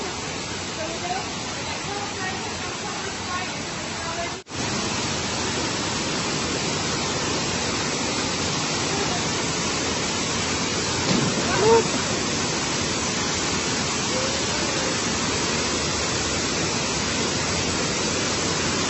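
A waterfall at a Branson, Missouri attraction roars as a loud, steady broadband rush that fills the whole span. A brief dip interrupts it once, and faint voices murmur beneath the roar.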